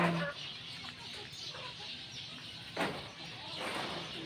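A fighting rooster clucks in short, scattered bursts at a moderate distance, with quiet ambient noise between the calls and no speech.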